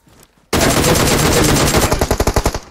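Loud automatic gunfire in the mobile shooter PUBG Mobile starts abruptly after a quiet moment and roars as a continuous burst, then breaks into distinct rapid shots near the end.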